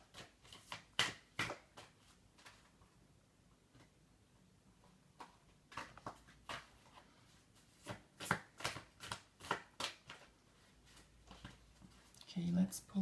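Quiet, close riffling and slapping of tarot cards being shuffled in irregular bursts, with brief pauses between runs and a soft rustle near the end.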